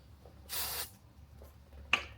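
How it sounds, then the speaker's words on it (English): An aerosol can of hairspray gives a single sustained spray hiss of about a third of a second onto hair, close and clear, followed by faint handling noises and a short sharp click. "I'll just spray it with some, yeah, here it is, hairspray."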